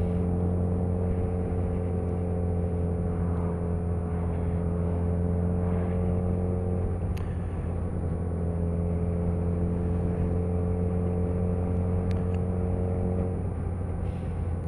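A Yamaha FZ1 motorcycle pulls hard through its gears, its engine a loud, steady harmonic drone that breaks briefly at the shift points before climbing again, with no voices.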